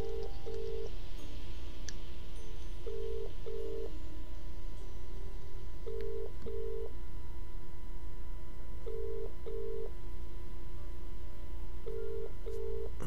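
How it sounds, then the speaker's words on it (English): Telephone ringing tone from the PC game Contradiction, a repeating double-burst ring pattern at steady intervals over a constant dial-tone-like hum, with no voices. "listening to a phone ring"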